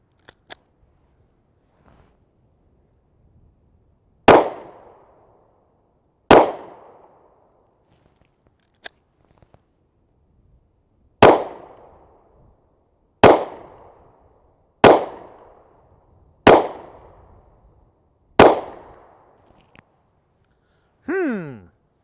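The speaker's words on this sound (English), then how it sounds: "shoot at the right-hand target for some accuracy" Ruger EC9s pistol firing at targets on a shooting range: about eight sharp, loud shots spaced a couple of seconds apart, each with a short decaying echo, plus a few faint clicks and handling sounds between them.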